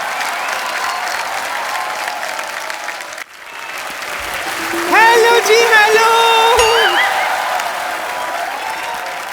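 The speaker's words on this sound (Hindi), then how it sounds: "जोरदार तालियां एक बार" A studio audience at a comedy talk show applauds loudly and densely for the opening seconds. The clapping drops off abruptly, and a man greets someone over lingering crowd murmur and a tonal whistling sound.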